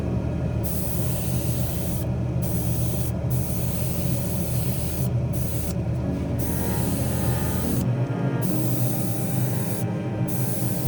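Continuous close hiss of an aerosol spray can laying thin coats of paint on a scale model Ford Mustang Hoonicorn car body, steady bursts with brief pauses between passes.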